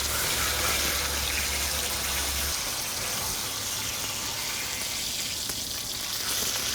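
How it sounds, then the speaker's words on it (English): Steak frying in hot beef tallow in a pan over a fire, a loud, steady, dense sizzle and crackle that continues without pause. "flipping the steak around and around in the hot beef tallow"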